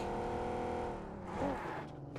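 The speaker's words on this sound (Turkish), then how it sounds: "Oo araba geliyor arkadaşlar" A car approaching in a video game, a steady engine hum that swells slightly as it nears and then fades, heard at moderate distance.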